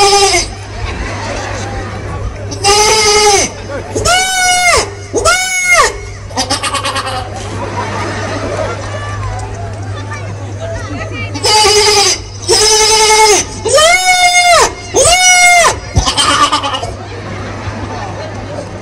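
A man imitates a goat's bleat at a live comedy show, several wavering nasal bleats in bursts, with talk and crowd chatter between them.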